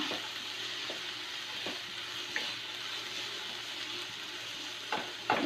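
Sliced onions and carrots fry in a pan for egg kurma, giving a steady close sizzle with occasional soft stirring knocks and scrapes.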